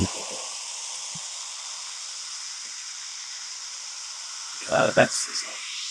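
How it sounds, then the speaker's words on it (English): Ramen cooking with a steady hiss of sizzling and steam throughout, a few short clatters near the end, and people talking faintly in the background. "That's the sizzle. Yeah, we'll give it a little more sizzle."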